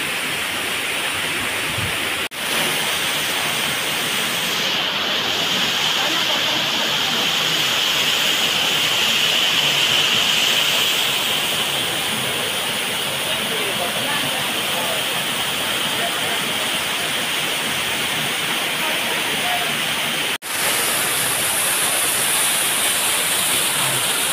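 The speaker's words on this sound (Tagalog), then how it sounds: "Yeah, beautiful waterfall." Pinipisakan Falls in Samar pours with a constant, loud broadband roar of falling water, steady throughout with no voices audible over it.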